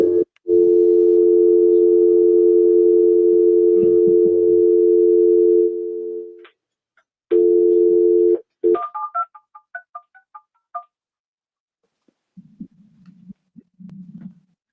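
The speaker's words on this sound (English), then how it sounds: "Well, phone line went down." A telephone dial tone comes on after a conference call line drops. It is a loud, steady tone that holds for several seconds, breaks off, and returns briefly, followed by short dialing beeps and a faint low murmur.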